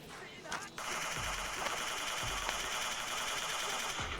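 Gunfire in PUBG Mobile Lite, with a burst of rapid automatic shots and a few scattered single shots, fairly faint, over continuous game background noise.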